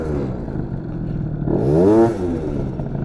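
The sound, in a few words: scooter engine revving with throttle ripped and brake pulled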